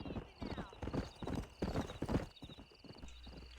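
Horse hooves clip-clopping in the Western video game Red Dead Redemption, a steady rhythmic stream of close hoofbeats with a brief whinny, while voices talk over it.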